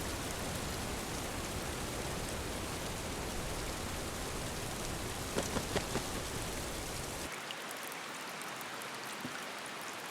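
Steady heavy rain falls across a tropical American jungle, a dense continuous hiss with a few sharper drips and patters, before the downpour thins abruptly to a lighter wash near the end.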